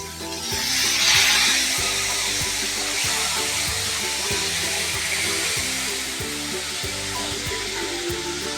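Spices sizzle steadily in a pan with a splash of water while cooking for millet khichuri, a constant loud hiss with soft rhythmic stirring scrapes beneath and no voices.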